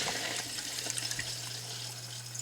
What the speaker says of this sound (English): Okay, so I got her turning the water on.